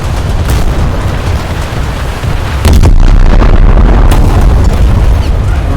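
Torpedo strike blasting a German Leopard-class destroyer during a War Thunder naval battle: continuous loud rumbling game noise, then a sudden heavier boom about halfway through that keeps roaring steadily to the end.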